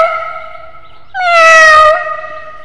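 A young boy imitates a cat with his voice, producing two convincing meows, a short one followed by a longer, louder drawn-out cry, close and clear.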